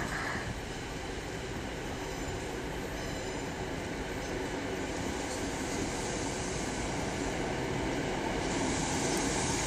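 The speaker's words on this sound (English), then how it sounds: "We got one of those IETs coming in." An IET intercity express train, a double unit, arrives at Exeter St David's station with a steady, fairly loud rolling rumble of wheels and faint high squeals, and no talk over it.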